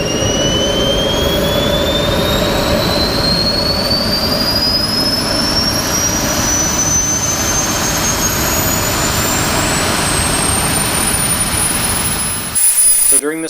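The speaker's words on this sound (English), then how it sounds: "Now we're going to introduce our fuel restriction, and the turbine shuts down and goes into restart mode." A SWIWIN SW220B micro turbine jet engine roars loud and steady with a high whine slowly rising in pitch, then cuts out abruptly near the end, leaving a brief sputtering rumble.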